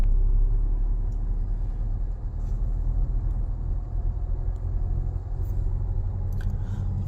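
A car being driven by a learner in low gear gives off a low, steady engine rumble and road drone. It is loud and close, as heard from inside the cabin, with no clear rise in revs.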